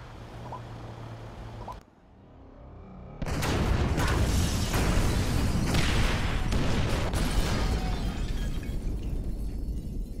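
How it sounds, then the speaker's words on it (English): Incendiary explosives detonate in a game: a brief drop to near silence, then a sudden loud blast swells into a long, roaring, crackling rumble with shattering debris that keeps going to the end. "Detonate the incendiaries, Frank."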